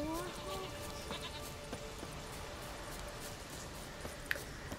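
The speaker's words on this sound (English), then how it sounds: "Excuse me, goats." Goats bleat in a Witcher 3 game pen, a few short calls rising over steady ambient game noise, fairly soft and spread through the scene.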